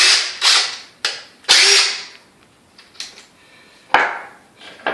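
A socket being fitted onto a DeWalt 20V impact driver: a few sharp metallic clicks and clacks, separated by pauses, close and fairly loud with no talking.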